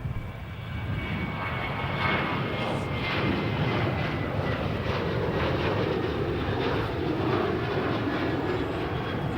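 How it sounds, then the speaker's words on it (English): A four-engine aircraft comes in to land at Melbourne Airport, a steady, loud engine roar that fills the whole stretch with a broad rushing drone and no voices. "next one in, we have a little 4-burner coming in"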